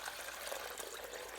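Four cups of cold water pour steadily into a pot to cool a brine, giving a soft, even, continuous splashing rush with no talk.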